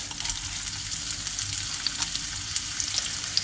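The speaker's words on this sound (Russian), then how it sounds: "Теперь нам нужно все это дело немножко обжарить до красивого цвета." Stuffed squid fry in a pan, giving a continuous bright sizzling crackle at moderate, even loudness with small pops scattered through it.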